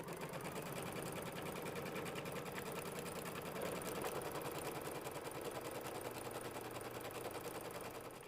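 An embroidery machine stitches a placement outline on a mini quilt, a continuous rapid mechanical chatter of the needle running steadily and evenly for several seconds at moderate, close level.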